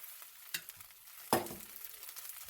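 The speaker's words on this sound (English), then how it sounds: "So now I got all my rice into the skillet, and I'm just mixing it." Rice being mixed and fried in a skillet for chicken fried rice, with a soft background sizzle and two sharp utensil scrapes or knocks against the pan, close and fairly quiet, no talking.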